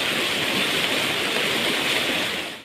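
Swollen river water rushes during heavy monsoon rain in Konkan, a dense continuous roar with a broad hiss, loud and steady throughout, with no voices.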